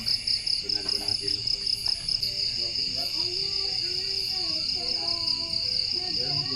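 Crickets chirp in a steady, high, pulsing drone throughout, with faint voices and other background sounds underneath.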